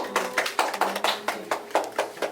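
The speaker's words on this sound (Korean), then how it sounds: "주인공에게 박수" A small study group in a psychodrama workshop applauds the protagonist: roughly ten distinct claps in a quick, even rhythm, close and clear in a quiet room.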